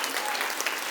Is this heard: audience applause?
yes